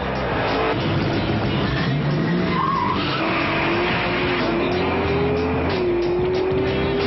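Highly modified street cars drag racing down a quarter-mile strip, engines roaring loud and close for the whole stretch with tires squealing and skidding, a rising engine pitch sweeping through the middle and end.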